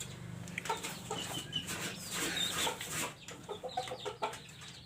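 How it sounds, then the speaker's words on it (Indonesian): A crested hen (liki-liki jambul) clucks in short, irregular bursts with faint chick chatter around her, close but quiet in a farmyard setting. "Di atas sana itu ada liki-liki jambul, indukan dari 12 anakan yang tadi itu."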